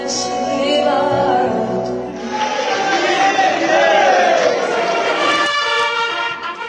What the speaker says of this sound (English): As he arrived at his hotel, PM Modi greeted the crowd